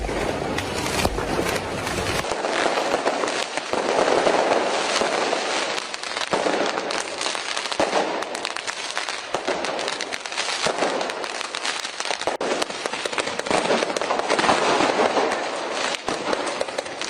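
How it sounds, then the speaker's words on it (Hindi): Dense crackling bursts of firecrackers set off in large numbers by protesters near where athletes are staying in Milan, continuous and loud throughout, with sharp repeated pops over a steady roar. "प्रदर्शनकारियों ने जहां पर एथलीट्स रुके हुए हैं वहां पर पटाखे जला दिए और वो भी बड़ी संख्या में"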